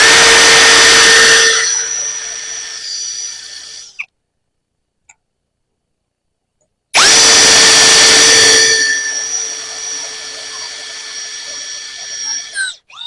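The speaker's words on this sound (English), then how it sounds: "Starting to drill it out. Want to get that pin all the way out." A drill bores out a walking floor cylinder piston pin with two loud, sustained whining runs separated by near silence, the motor close and dominant, tapering as each run winds down.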